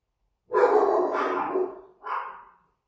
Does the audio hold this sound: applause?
no